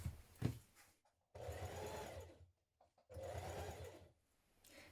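A sewing machine bastes the outer edge of a backpack's layered front panel, foam and lining together, running in two sustained bursts with short pauses between, close and steady.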